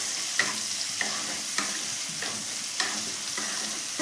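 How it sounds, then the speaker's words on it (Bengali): Chopped onions fry in hot oil with cumin and green chillies, a steady sizzle broken by regular scrapes of a spatula stirring the pan. "পেঁয়াজটাকেও একটু ভালো করে ভাজবো।"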